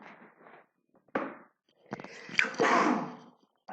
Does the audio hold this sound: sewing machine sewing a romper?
no